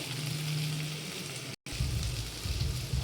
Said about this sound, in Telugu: పుదీనా అలాగే మెంతి, ఇవి రెండు ఒకసారి ఫ్రై చేసుకుందాం.